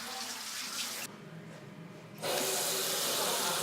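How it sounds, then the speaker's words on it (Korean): Tap water gushes steadily from a household faucet into a sink, a loud continuous rush that briefly softens and then surges back at full force. "수도꼭지만 틀면 콸콸 쏟아져 나오는 수돗물"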